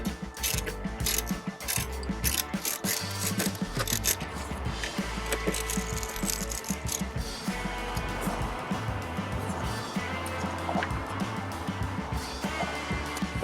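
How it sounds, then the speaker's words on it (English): Close, steady ratcheting and metallic clicking from a ratchet with a 10 mm socket loosening headlight bolts on a 2013 Hyundai Elantra, continuous and fairly loud throughout with no talking. "So I'm going to start by removing these two bolts here with the 10 millimeter."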